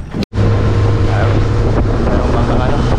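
A steady, rumbling boat engine drones on Puerto Princesa Bay under strong wind buffeting, loud and continuous after a brief dropout at the start.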